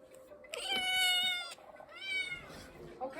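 A house cat meows loudly and close, two drawn-out calls with a shorter one at the end, while a person's voice is heard alongside.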